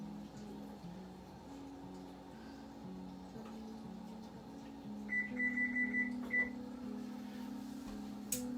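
A kitchen timer beeps during banana bread baking, with a short run of quick, faint repeated beeps in the middle of the clip over a steady low appliance hum and kitchen room tone.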